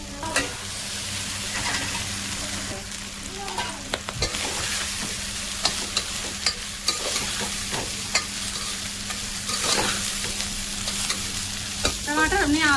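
Dal and tomato sizzle loudly in a hot pan while a spoon scrapes and stirs, giving a constant frying crackle broken by regular clinking stirs.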